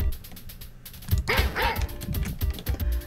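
Small dogs barking in the Spear of Destiny first-person shooter on floor 3, a cluster of sharp yips and barks mixed with game noise and some talk.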